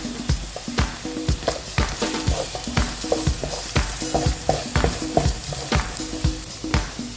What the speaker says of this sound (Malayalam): ചോപ്പ് ചെയ്ത ക്യാരറ്റ് അതിലേക്കിട്ട് അത് നന്നായിട്ടൊന്ന് ഇളക്കും.